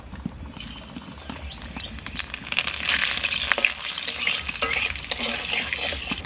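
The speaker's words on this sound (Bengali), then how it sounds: "মাছ ভাজা তেলের মধ্যে দিয়ে দেবো জিরে আর তেজপাতা" Cumin seeds and bay leaves sizzle and crackle in hot oil left over from frying fish, a steady loud hiss that swells in intensity partway through, with occasional stirring clatter.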